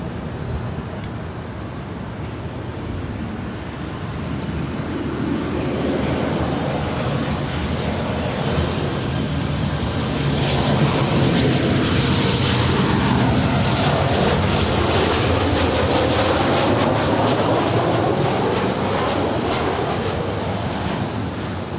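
A Turkish Airlines Boeing 787 Dreamliner departs LAX, its jet engine roar swelling from a distant rumble into a loud, sustained broadband blast that holds steady for the remainder of the takeoff.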